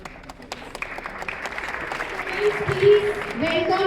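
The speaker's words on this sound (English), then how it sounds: "आप लोगों की तालियां थमनी नहीं चाहिए" An audience at a planetarium event welcoming an astronaut applauds steadily with a dense, continuous patter of clapping, while a voice speaks over it.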